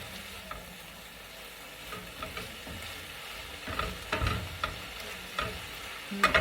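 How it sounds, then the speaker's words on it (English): Spinach wilts and fries in a skillet as it is stirred, with a low, soft sizzle and a few scraping stirring bursts that become louder and more frequent toward the end. "Stir it around, get it down on the bottom of the pan where it gets close to the heat"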